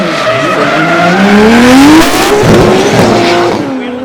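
A drift car at ASB Baypark in Tauranga, skidding through a long, loud tire squeal with rising and falling pitch over a revving engine, close and continuous.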